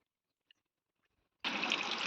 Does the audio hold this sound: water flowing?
yes